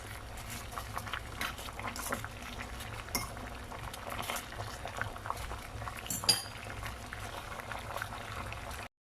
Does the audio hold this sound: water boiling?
yes